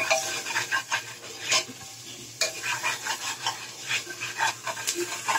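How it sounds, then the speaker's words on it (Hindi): Ground spices such as turmeric, coriander and red chilli are stirred and roasted in a pan, with repeated scraping and rubbing strokes over a soft sizzle in an even rhythm, and no talk. "मसाले हमारे भून चुके हैं अच्छे से,"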